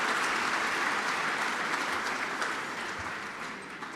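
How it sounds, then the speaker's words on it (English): Audience at an awards gala applauding, a broad wash of many hands clapping in a large room, loud at first and gradually easing off toward the end. "We should cheer for that. We should applaud that."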